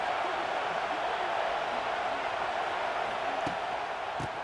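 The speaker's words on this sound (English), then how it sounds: "This crowd ready to make its presence known." Video game stadium crowd from College Football 26, a steady, loud roar of fans that fills the whole clip, with a couple of brief sharper accents near the end.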